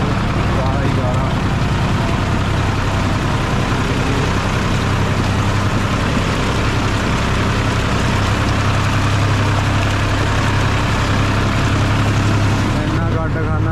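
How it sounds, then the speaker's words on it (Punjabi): A tractor hauls a loaded trolley through rain-soaked mud, its engine a loud, close, unbroken drone that lasts the whole time, with voices mixed in underneath. "ਉਹ ਟਰੈਕਟਰ ਥੱਲੇ ਲੱਗ ਗਿਆ ਟਰਾਲੀ ਫਿਰ ਵੀ ਖਿੱਚ ਕੇ ਲਿਆਉਂਦਾ"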